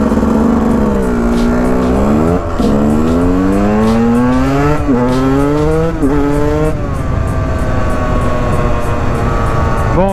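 A KTM 125 EXC two-stroke dirt bike engine revs and accelerates hard through several rising pitch sweeps between gear changes, loud and close, with no talking.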